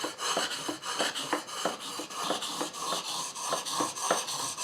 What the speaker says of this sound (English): what I believe is called the Japanese Whetstone technique for sharpening